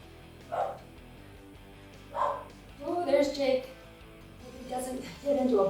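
A dog gives a few separate barks, then a quicker run of excited yips and barks, close by indoors.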